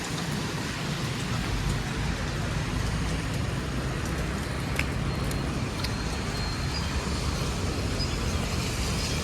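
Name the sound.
rain falling in the morning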